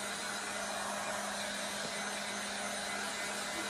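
A hair dryer blows continuously at low, steady volume over a mason jar freshly coated in pastel chalk paint, a constant broadband whoosh with a faint hum and no voices.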